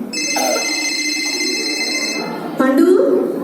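A telephone rings with bright repeating electronic tones indoors, the ringing mixed with voices and background chatter nearby.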